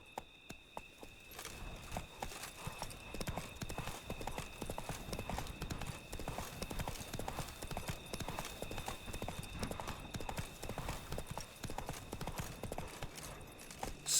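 A horse named Roach gallops with a fast, continuous drumming of hoofbeats, steady and fairly close, with no talk over the running.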